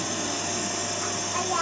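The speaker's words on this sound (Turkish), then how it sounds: "Kapat süpürgeni. Yeter bu süpürge yaptığın." A vacuum cleaner runs indoors with a steady, loud whirring hiss that holds constant throughout.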